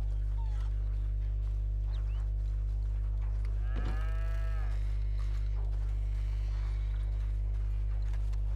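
Cattle lowing in Red Dead Redemption 2, a long drawn-out moo rising midway over a constant low hum, with fainter lowing calls scattered before and after.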